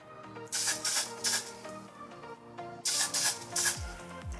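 Several short hissing bursts of hair mousse spray from an aerosol can, close and fairly loud, coming in two clusters of three with quiet pauses between them.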